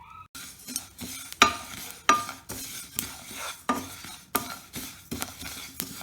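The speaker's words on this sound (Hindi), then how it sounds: "हमें इसे बहुत ज़्यादा नहीं भूनना है और इसको लगातार चलाना है। हम धीमी आंच पर को 2-3 मिनट भूनेंगे।" Sesame seeds are stirred and dry-roasted in a pan over a low flame, a spoon scraping in repeated sweeps with soft rattling and a light sizzle, each stroke swelling and fading in an uneven rhythm, close and with no voices.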